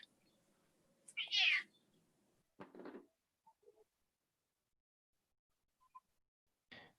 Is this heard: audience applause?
no